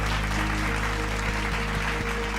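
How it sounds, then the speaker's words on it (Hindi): Studio audience applause for singing finalists at a televised talent show grand finale, a sustained, loud, even clapping over a low background hum. "तो जोरदार तालियां हो जाएं पहले तो सारे ही फाइनलिस्ट्स के लिए."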